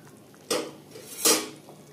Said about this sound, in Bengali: এটা আমি বাটিতে ঢেলে নেব